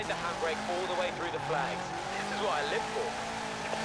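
Tire squeal and engine drone from a 2005 Subaru WRX STI drift build sliding through a drift zone in Forza Horizon 4, a steady game-car roar with wavering squeals, partly under continuous talk.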